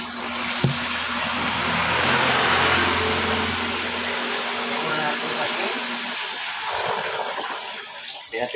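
Motor of a mineral water purifier machine runs with a steady whirring hum and rushing, water-like noise, a low drone under it, dropping off near the end.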